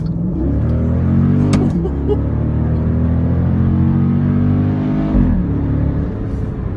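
A Jeep Grand Cherokee SRT8 V8 engine pulls hard under acceleration, its drone climbing then dropping sharply at two gear shifts before building again, loud and close.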